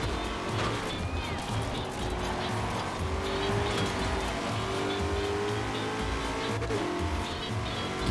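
A Shelby Mustang GT500 in Forza Horizon 4 roars steadily at high revs, with squealing tires and a sustained engine drone close up.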